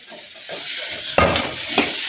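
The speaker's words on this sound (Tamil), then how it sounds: "சுண்டல் தாளிச்சாச்சு." Boiled chickpea sundal is tempered in a hot pan, giving a steady close sizzle and hiss with a couple of sharper crackling bursts partway through.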